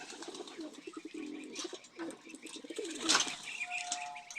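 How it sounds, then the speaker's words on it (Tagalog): A racing pigeon, a blue bar hen, arrives home at the loft during a 93 km training race. There is a brief burst of wing flapping near the middle, with coos, outdoor chatter and background voices around it. "ayan na siya blue barhen, first bird"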